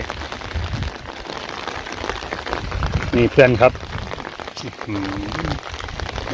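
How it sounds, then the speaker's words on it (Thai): Rain patters steadily on a tent during a misty mountain camping trip, a continuous close drumming of drops, with a person briefly speaking over it midway. "ทดสอบเต็นท์ครับฝนตก"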